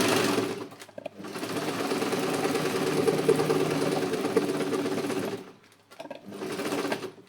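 Sewing machine stitching fabric for a skirt, a rapid steady mechanical whir running at full speed for about five seconds, stopping briefly, then starting again for a short burst, close and clear.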